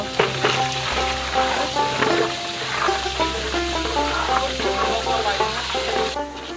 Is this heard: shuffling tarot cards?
no